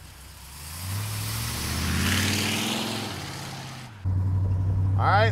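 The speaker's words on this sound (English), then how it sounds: "She has got an awesome sound and exhaust system on her. She sounds fantastic." Engine and exhaust of a 1955 Chevrolet Bel Air rise and fall in a loud, throaty drone as the car drives, then jump to a closer, louder roar with a brief squeal at the end.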